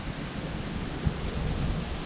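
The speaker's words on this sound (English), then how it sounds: "get out of the wind, but it's still ripping through here as well" Strong wind blows along a creek at a Murray River campsite, a low, steady rumbling buffet with a slight gust near the middle, continuous and fairly faint, with no one speaking.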